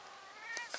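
A cat gives a brief, rising meow, calling for its kittens, close and fairly faint, with a second short call at the end.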